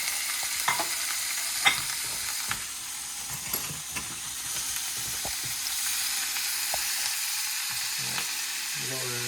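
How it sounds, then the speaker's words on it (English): Foraged wild mushrooms fry in butter in a pan, a soft continuous sizzle with scattered utensil clicks and stirring scrapes close by, and a brief rising tone near the end. "I just put some butter in there and heat it up"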